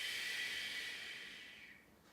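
A long, steady exhale during a chi kung exercise, a soft airy hiss that holds for about two seconds and slowly fades, close and quiet, with no talking.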